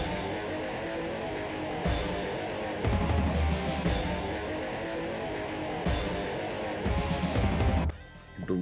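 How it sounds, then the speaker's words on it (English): Music and game effects from Sega Bass Fishing on the Dreamcast as a really big fish is being caught, a dense, busy wash of sound that swells in places and drops away sharply near the end. "Here's the sound you hear when you're catching a real big fish."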